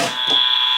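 A game buzzer during Christmas party games sounds one short, steady electronic tone, loud and close, held to the end.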